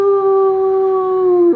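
A person imitating a dog howl during a yoga class, one loud sustained vocal tone held steadily for over a second before cutting off.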